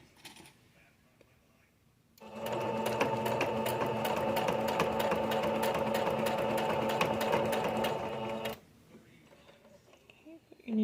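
A sewing machine stitching a badge holder, a loud steady whirring run with rapid needle clatter lasting about six seconds, starting and stopping abruptly against a quiet background.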